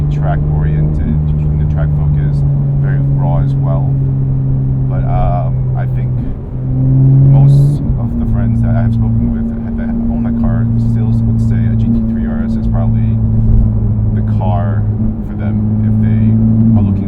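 A Porsche 991.2 GT3 RS sports car engine drones loudly and steadily from inside the cabin, its pitch shifting with a brief surge around the middle, continuous throughout.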